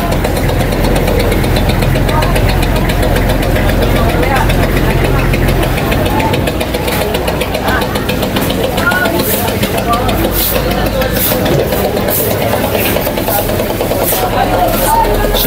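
Passenger boat engines idle at a busy fish market port in Dagupan, a loud continuous knocking rumble that stays close and steady, with people talking over it.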